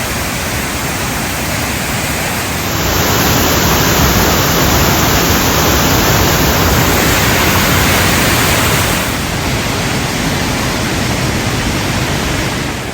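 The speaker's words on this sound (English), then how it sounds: "That is a pretty impressive waterfall" Powerful waterfall in Cornwall roaring continuously, a dense, steady broadband rush heard close and loud for the whole stretch, with no voices or breaks.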